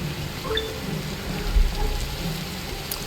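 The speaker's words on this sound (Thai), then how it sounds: "ฝนตก" Steady video game rain hiss in Roblox with scattered drops, a soft constant wash, a brief thump near the end.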